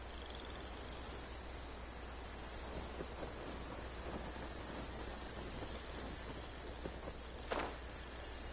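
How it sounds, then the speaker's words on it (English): Steady rain hiss in the Genshin Impact game world, a continuous soft wash with a brief crack of thunder near the end, faint and even throughout. "It always rains when I go on an adventure."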